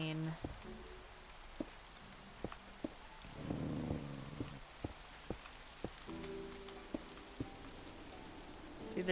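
Light rain patters softly in the background of Minecraft while sharp clicks tick at irregular intervals; someone speaks briefly over it.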